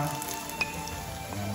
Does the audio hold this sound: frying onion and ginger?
yes